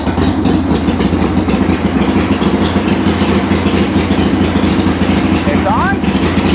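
Harley chopper motorcycle engine running after a choke cable replacement, a loud, steady, close rumble that holds throughout, with a brief faint chirp near the end.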